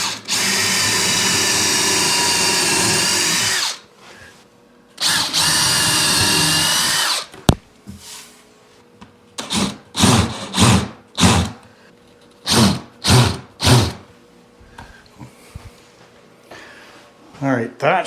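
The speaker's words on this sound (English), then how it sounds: "let's drill our holes here and countersink them and get a couple of screws into this" A power drill bores and countersinks holes in door trim during an entranceway makeover, with two long whining runs followed by a string of short, punchy bursts as screws are driven in, loud and close.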